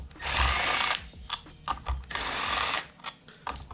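A power tool spins out 12mm bolts holding a W58 transmission shifter, firing in two long whirring bursts separated by short stuttering blips, loud and close.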